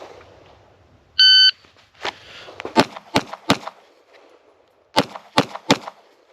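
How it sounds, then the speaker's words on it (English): A pistol fires at 3 yards in an FBI qualification course, strong hand then support hand: a shot-timer beep, then two quick bursts of sharp, loud, close cracks separated by a short pause for the hand switch. "3 yards, 3 rounds with strong hand only, switch hands, and 3 rounds with your support hand only in 6 seconds"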